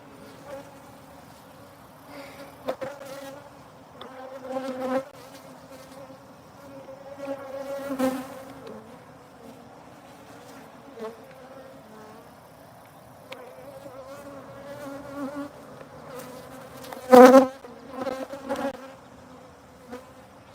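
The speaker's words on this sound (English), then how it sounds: "The bees are going crazy." Honey bees buzz around the hive during a honey harvest, a busy droning hum with individual bees swelling louder as they fly close to the listener, amid occasional handling clatter.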